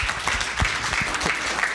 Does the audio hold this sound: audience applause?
yes